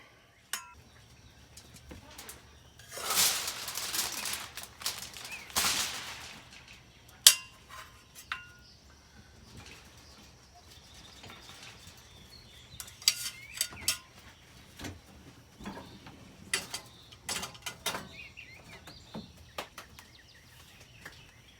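Metal spatulas scooping up foil pieces beside briskets, scattered scrapes, crinkles and clinks, a louder rustling burst early on followed by sparse, faint clatters, with no talk.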